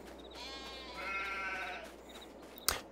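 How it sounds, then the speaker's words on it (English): Black Welsh sheep bleating in the Farming Simulator 22 video game: a drawn-out, wavering bleat over steady background hum, followed by a brief sharp click near the end. "It's a little expensive when it comes to the black Welsh sheep"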